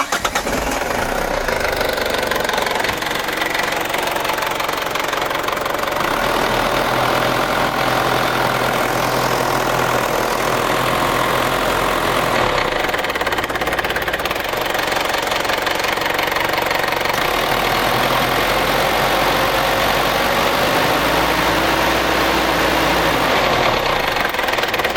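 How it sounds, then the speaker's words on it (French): A Ford Ranger engine idles roughly and struggles to pick up revs, a continuous loud low rumble with a knocking texture and slight surges, heard close with no talk over it. "Si c'est moi qui envoie la pression, il peut prendre les tours. Si j'appuie pas, il les prend pas."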